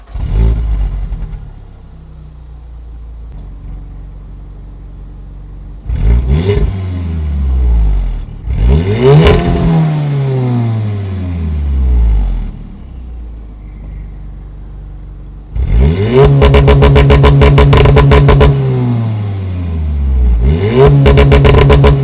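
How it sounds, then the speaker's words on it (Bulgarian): A VW Golf 7.5 R's engine is started and revved repeatedly, loud and close. Sharp throttle blips rise and fall away, followed by a long sustained high rev and one more blip, with a lower idle hum between them. "Сега ще ви запаля колата да чуете звука"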